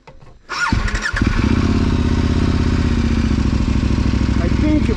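A KTM 1090 motorcycle pulls away on an offroad trail, its engine catching after a quiet start and settling into a steady, loud, close rumble with mechanical clatter throughout.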